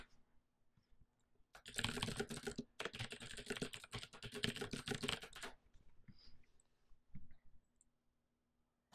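Rapid clicking keystrokes on a computer keyboard come in a dense burst of about four seconds, then trail off into a few scattered key taps against near silence.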